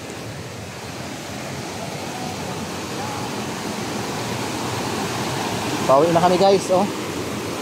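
Floodwater rushing hard during Typhoon Enting, a broad steady roar that swells slightly toward the end, with a brief burst of close talking near the finish.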